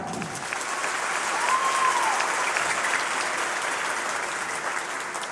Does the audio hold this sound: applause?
yes